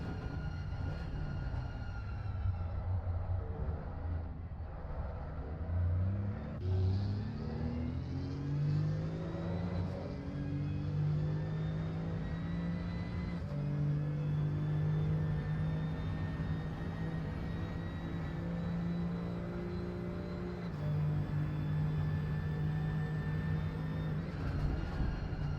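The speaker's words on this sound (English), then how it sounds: "These cars are so nice to hear." Race cars circle Monza in a racing video game, engines droning and rising steadily as they accelerate through the gears, a continuous mid-pitched roar with shifting tones and no talk.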